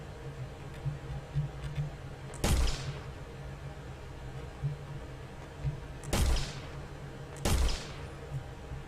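Gunfire in a video game aimed at targets: three loud, sharp blasts spaced several seconds apart, each with a brief decaying tail over a low steady background hum.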